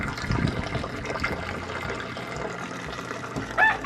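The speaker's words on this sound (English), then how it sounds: "And the water fills this up." Water from a new DIY aquaponics pump gushes into a tank, a steady, close splashing fill that swells louder near the end.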